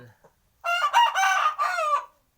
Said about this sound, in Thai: มีไก่มาเปิดแบ่งอีกหนึ่งตัวครับผมเป็นพม่า